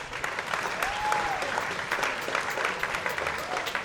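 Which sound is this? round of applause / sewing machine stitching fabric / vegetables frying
round of applause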